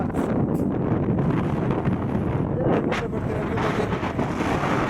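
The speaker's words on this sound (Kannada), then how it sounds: "ಈಗ ನಿಂತ್ಕೊಂಡ್ರೆ ಬರ್ರಿ ಹೆವಿ ಗಾಳಿ" Heavy wind at the Mandalpatti hills during an off-road trip roars steadily across the microphone, a dense continuous buffeting that stays loud for the whole stretch.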